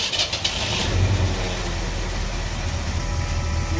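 A car engine on an old mechanical fuel pump cranks briefly and catches, settling into a low rumbling idle close by, loud and alone.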